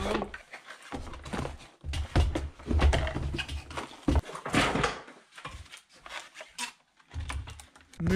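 A new, expensive computer keyboard being typed on in quick, irregular bursts of crisp key clicks, heard up close and fairly loud. Short pauses separate the flurries.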